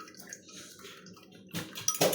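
A little water is poured into a dish of egg and broccoli being prepared for steaming, with a soft trickle that turns into a brief louder splash near the end.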